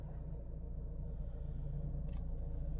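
A car engine idling at rest, a quiet, steady low rumble with an even hum throughout and a brief faint high squeak near the end.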